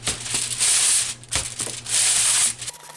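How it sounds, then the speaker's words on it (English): Greasing a pizza pan: a steady, close rubbing and scraping across the metal surface in long strokes, with a brief pause partway through. "you also want to grease the pan"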